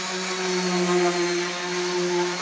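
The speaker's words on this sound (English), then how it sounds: "So I'm going to finish sanding this down." A power sander works wood in a distillery workshop, producing a steady, loud, close motor whine with a constant pitch and no pauses.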